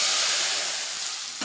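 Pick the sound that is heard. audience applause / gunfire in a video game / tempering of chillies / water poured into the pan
tempering of chillies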